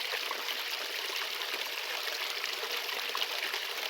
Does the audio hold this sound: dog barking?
no